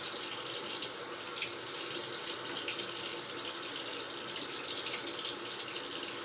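Tap water running steadily into a sink during surgical handwashing, a constant close hiss of flowing water with no talk.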